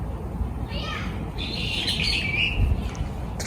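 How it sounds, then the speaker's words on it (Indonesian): Birds and crows calling outdoors in Japan, several chirps and harsh squawking calls rising over a steady background hum, fairly close, with voices faintly present. "Sini banyak burung sama gagak gitu"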